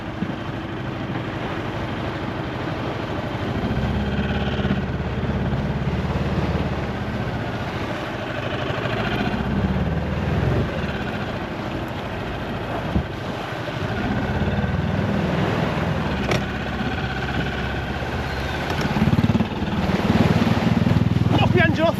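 An outboard engine on an inflatable fishing boat off Colwyn Bay, North Wales, runs steadily with a low continuous drone throughout, while people talk over it.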